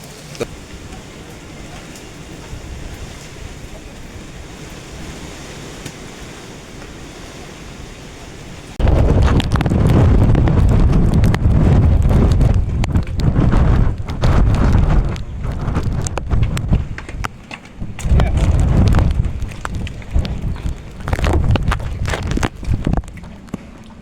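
Strong wind and rain on Girnar mountain along the pilgrim path toward the Dattatreya peak, heavy gusts roaring and buffeting the microphone loudly after a quieter opening stretch.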